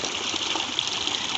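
A clear mountain river rushes steadily over its bed, a constant, close, dense gurgle and wash with no voices.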